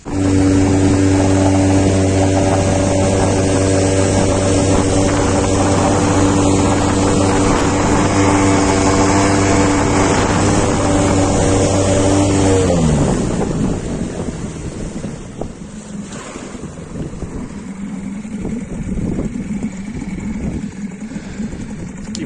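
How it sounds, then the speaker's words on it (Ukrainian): A small Yamaha 4 hp two-stroke outboard boat motor drones steadily with a buzzing hum for about twelve seconds, then cuts out, leaving wind and lapping water. "моторчик Yamaha."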